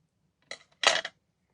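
Scissors snip through snowman bottle decor pieces being trimmed at an angle, giving one short cut and then a louder, longer crunchy snip close by, with no talking.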